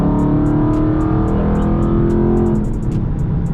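A Dodge Charger 392 Scat Pack in Sport Plus mode revving hard, its loud close engine note rising steadily in pitch for about two and a half seconds before easing off, with no voices.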